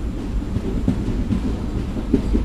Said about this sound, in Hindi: ट्रेन स्टार्ट हो चुका है.